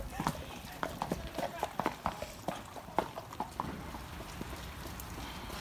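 Horses walking on a wet, cold hack at Cholsey Farm, with soft irregular hoof clip-clops at moderate distance over steady background noise and occasional voices.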